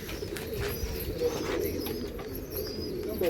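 Pigeons coo in low, repeated rolling calls at a large pigeon farm in Latur, Maharashtra, with several birds close by over a constant background murmur.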